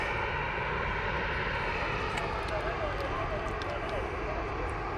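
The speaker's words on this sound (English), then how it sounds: "Oh, Ryanair coming on stand." Ryanair airliner taxiing onto its stand at Cologne Bonn Airport, a steady distant engine whine and rumble running throughout, with faint chirps above and outdoor background noise.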